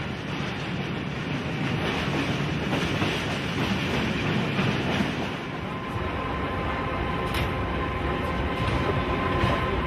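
A train crosses the Danube bridge between Romania and Bulgaria toward Ruse, a loud, continuous rumble with rattling wheels and carriage clatter heard close from on board, no voices.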